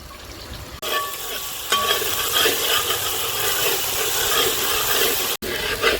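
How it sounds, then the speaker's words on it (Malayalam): Ginger garlic paste frying in very hot oil for a ghee rice dish, with a loud, steady, close sizzle and hiss that runs throughout, broken by a brief cut near the end. "നല്ല തിളച്ച എണ്ണ വേഗം പെട്ടെന്നാവും ഇഞ്ചി വെളുത്തുള്ളി പേസ്റ്റ് കൊടുക്കാം കേട്ടോ"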